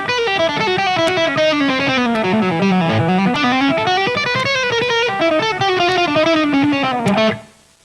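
Fast, flowing distorted electric guitar licks played at tempo, a continuous stream of rapid notes sweeping up and down, loud and solo, fading out at the end.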